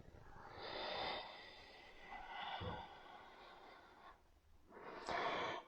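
Slow yoga breathing during a cat-cow back movement, a long audible inhale followed by a soft exhale and another breath, quiet and close with no talking.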